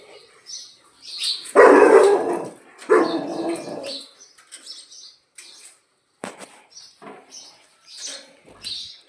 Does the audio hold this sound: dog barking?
yes